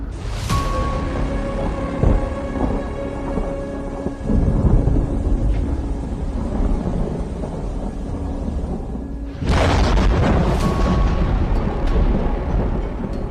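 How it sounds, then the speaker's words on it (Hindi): Thunder from storm clouds during a storm: a sharp crack opens into a long rolling rumble, followed later by a second loud crack and heavy rumbling, with steady rain-like noise between. "डराने वाली आवाज के साथ गरजते इन बादलों को सुनिए।"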